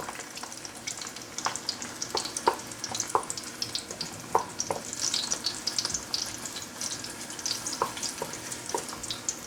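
Ginger and garlic frying in a pot as the base for Jamaican curry chicken, a continuous crackling sizzle dotted with rapid pops and spits, close up with no voices over it.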